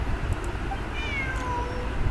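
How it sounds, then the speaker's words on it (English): A cat meows in Genshin Impact, a short rising and falling cry heard over a steady game soundtrack and ambient background. "Look, a cat."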